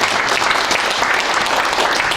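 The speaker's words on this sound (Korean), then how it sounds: "박수 한번 보내주시고 고맙습니다." Audience applause at a foundation's 50th anniversary ceremony, a steady dense wash of clapping from a large crowd, loud and continuous throughout.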